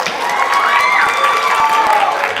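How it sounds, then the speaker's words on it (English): An audience at a Women's History Month show cheers and applauds the performers, a dense crowd roar of shouts and whoops with clapping mixed in, loud and sustained throughout. "I'd like to give you guys a round of applause as well"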